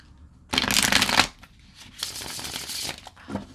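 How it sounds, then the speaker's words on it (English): Tarot cards are shuffled close by in two quick riffling bursts, the first louder, followed by a softer brief shuffle at the end. "I love a good shuffle."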